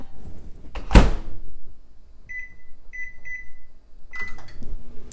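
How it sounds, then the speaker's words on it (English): A microwave oven door thunks shut, then three short keypad beeps sound before the oven starts with a low running hum under faint household clatter. "So then you put it in your microwave for 2 minutes."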